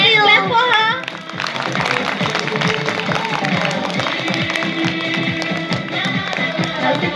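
A school audience at a Christmas celebration claps for a young contestant, with a steady patter of many hands over a loud voice and background chatter that runs throughout.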